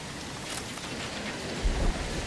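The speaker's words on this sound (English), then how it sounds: "Storm coming!" A thunderstorm in the video game Left 4 Dead 2, with a dense wash of rain and a low rumble of thunder swelling near the end, loud and continuous with no talk.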